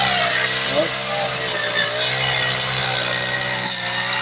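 A brush cutter clears a bitter gourd (ampalaya) plot, its small engine droning loud and continuous with a buzzing, slightly wavering pitch throughout.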